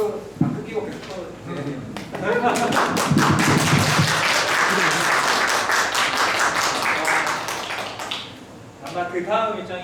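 An audience applauding after a climate crisis lecture and launch event, a dense sustained clapping that swells and continues for several seconds, with talk before and after.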